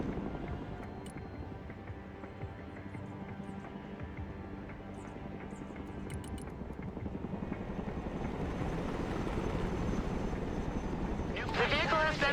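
Chinook helicopter from Broken Arrow, a steady rotor roar that slowly builds louder over the whole stretch, with a brief burst of higher mechanical whine near the end and a voice talking over the top.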